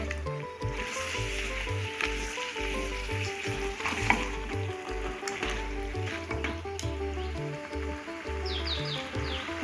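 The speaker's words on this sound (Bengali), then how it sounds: "ফ্লেম হাই রেখে আমি মাংসটা 4-5 মিনিট মতো কষে নেব" Country chicken meat fried in spices over a high flame, a dense hiss and crackle of oil under repeated stirring scrapes, steady and moderately quiet throughout, no voices.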